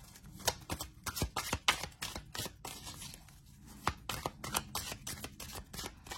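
Playing cards being side shuffled by hand, a series of quick riffling, slapping bursts with brief pauses between, close and fairly quiet, with no talking.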